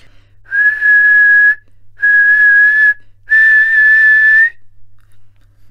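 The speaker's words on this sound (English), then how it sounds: "she got into a terrible rage and blew three times upon her silver whistle" Three loud, steady blasts on a silver whistle, each about a second long, the last one longest, separated by short pauses.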